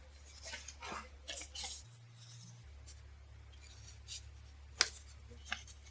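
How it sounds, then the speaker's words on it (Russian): Scissors slice along a strip of A4 paper, giving a series of soft scraping cuts and a couple of sharp snips, fairly close and quiet over a low steady hum. "отрезаем полоску шириной 4 сантиметра."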